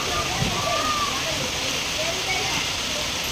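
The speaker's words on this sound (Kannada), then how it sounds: "ತುಂಬ ದಿನ ಆದಮೇಲೆ ಜೋರಾಗಿ ಚೆನ್ನಾಗಿ ಮಳೆ ಬರ್ತಾಯಿದೆ" Heavy rain pours down in front of a house, a steady broadband wash of falling water that stays even and continuous, with a voice talking faintly over it.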